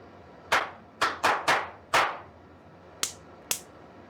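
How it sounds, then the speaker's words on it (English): Sharp single hand claps in a quiet basement during a ghost investigation: five quick claps in an uneven rhythm, then two more after a pause, each close and crisp with a short ringing decay. "This time, finish the clap."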